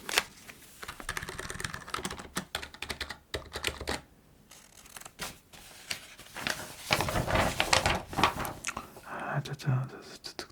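Close-up typing on a computer keyboard at a French employment office desk in a role-play, with quick irregular bursts of key clicks and brief pauses, steady and near, with faint whispered speech mixed in.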